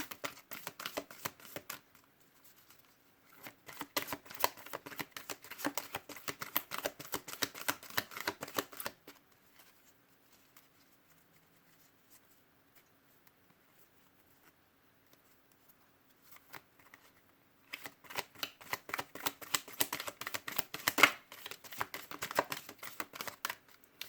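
Cards being shuffled in bursts of rapid riffling clicks, close and crisp, with a quiet pause in the middle before another round of shuffling.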